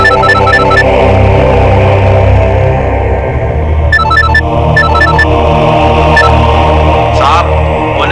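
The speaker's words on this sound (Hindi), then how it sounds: "अरे सुनिए, आपका फोन बज रहा है।" A telephone ringing in a tense Hindi crime drama scene, sounding as repeated bright electronic ring bursts in short groups over a loud, steady background drone.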